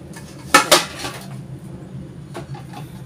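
A metal cooking pot clinks down into a rice cooker with two sharp knocks close up, followed by a few softer clatters and taps, with no voices.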